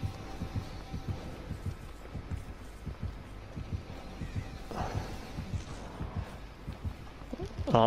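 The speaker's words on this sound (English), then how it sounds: "Heartbeat's coming again." A slow, low thumping heartbeat signals the killer approaching in the horror video game Dead by Daylight, a steady throbbing pulse under faint game ambience.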